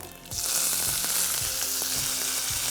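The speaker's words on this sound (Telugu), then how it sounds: "మంచి పలసటి పప్పు ఇలా నెయ్యి వేసి తాలింపు వేసుకుందాం" Loud, continuous sizzle of dried red chillies and cumin frying in hot ghee for a tempering, starting abruptly after a brief quiet moment, with a few light stirring knocks.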